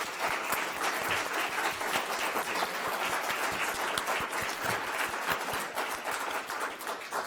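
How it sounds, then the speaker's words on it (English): Steady applause from an audience at an Evanston mayoral candidate forum, dense clapping that holds level throughout with no talk over it. "I'd like to invite the audience to give our candidates a round of applause"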